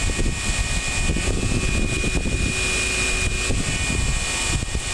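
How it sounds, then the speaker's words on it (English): ATV electric cooling fan running while hot on a Nevada cross-country ride, a steady loud whirring drone with constant rushing noise throughout, no talking. "Hear my fan running?"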